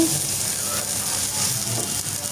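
Ash gourd leaf fritters frying in hot oil give a steady, close broadband sizzle that holds evenly throughout with no talking.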